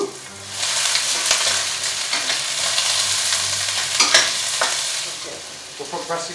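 Onions hitting a hot pan and frying, a loud, broad sizzle that swells in and holds steady, with occasional stirring scrapes and knocks.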